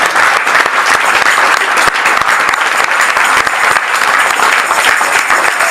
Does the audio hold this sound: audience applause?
yes